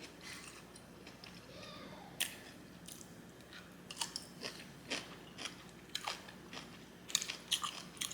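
Crunchy kimchi banchan being bitten and chewed close up at a Korean glass-noodle japchae meal, with irregular crisp crunches and wet squishes that grow denser toward the end over a quiet room.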